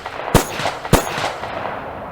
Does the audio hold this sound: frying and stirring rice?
no